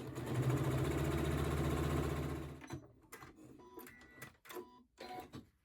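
A home sewing machine runs a zigzag stitch on stretch fabric for shorts, humming loud and steady for under three seconds before stopping; then come lighter clicks and handling noises.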